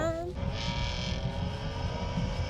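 A BMW M4 engine revs briefly at the start, then settles into a throaty, rumbling drone with some background noise.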